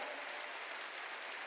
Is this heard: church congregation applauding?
yes